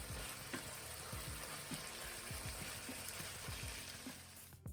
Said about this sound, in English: you can hear it sizzling, so it's quite ready